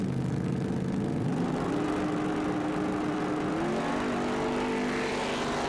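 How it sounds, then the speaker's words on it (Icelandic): Car engines revving and roaring, pitch climbing through repeated accelerations, loud and close with no voices. "Það er alveg organdi hljóðin í þessum bílum."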